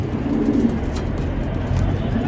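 Elvan-breed pigeons cooing on a rooftop loft, low soft repeated coos close by over a steady background rumble.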